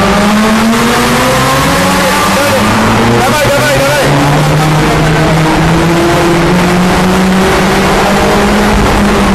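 A Ferrari California accelerates hard through Paris streets, its engine howling loud and close with pitch climbing through gears, while a voice talks excitedly over the sound in a dense, saturated mix.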